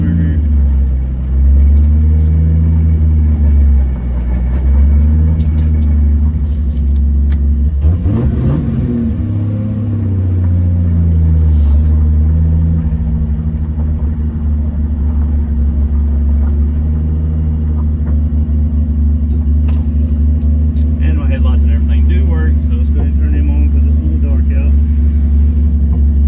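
A big turbocharged Toyota Supra drones steadily during a ride, its deep engine rumble holding a constant pitch with a brief swell in revs partway through. Cabin road noise sits underneath throughout.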